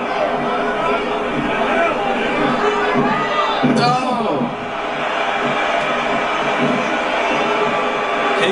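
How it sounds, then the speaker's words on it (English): Wrestling event crowd roaring and cheering in a continuous, loud wash of noise from a packed arena, with some chatter mixed in. "Would you listen to this crowd show their appreciation for these amazing competitors?"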